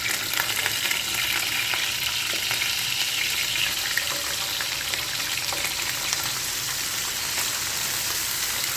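Fish frying in hot oil in a pan, a dense, steady crackling sizzle with scattered pops, close and fairly loud, continuous throughout with no voices.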